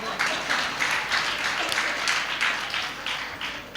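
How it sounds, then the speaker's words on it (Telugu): A church congregation at a Sunday service claps in a steady rhythmic beat, loud and close, with faint talk underneath. "క్లాప్స్ కొట్టు బ్రదర్, క్లాప్స్ కొట్టాలా?"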